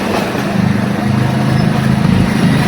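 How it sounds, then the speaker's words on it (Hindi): A motorcycle engine runs close by with a loud, steady low rumble that holds throughout, without talk. "ये बाइक चला हुआ है"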